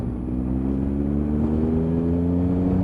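A 2016 motorcycle accelerates hard in fourth gear, its engine holding a steady, loud, close drone that builds gradually with no voices over it.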